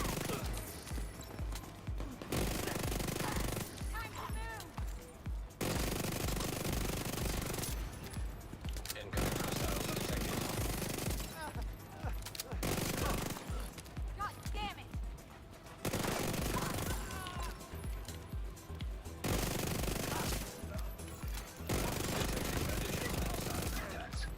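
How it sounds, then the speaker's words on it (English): Enemy gunfire from a distance in The Division 2, long bursts of rapid automatic shots broken by short pauses, loud and sustained throughout, with occasional player talk. "Little fucker shooting me from the distance."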